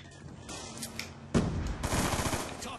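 Machine gun fire in the video game Black Ops 2: quiet scattered sounds at first, then a sudden loud burst of rapid automatic gunfire that continues steadily to the end.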